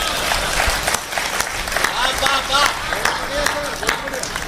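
Audience applause and clapping at a Hindi satirical poetry stage show, dense and steady across the whole span, swelling in places, with crowd noise and some voices mixed in.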